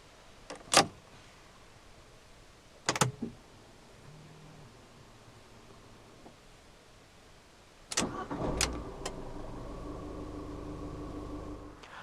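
A few sharp clicks and thumps, then a 2016 Abarth 595 Turismo engine cranks and catches with the door closed, settling into a steady idle close by.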